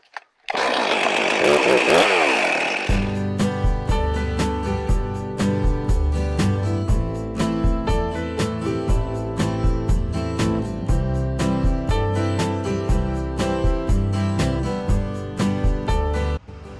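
A chainsaw starts with a rising whine, then runs hard and steady for a long stretch, its engine roaring as it cuts.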